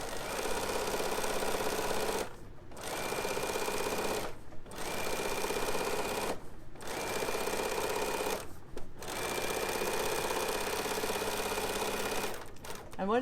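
A Bernina sewing machine top stitches down a zip on the lining side of fabric, running in steady whirring bursts of about two seconds each, separated by short pauses, close and fairly loud.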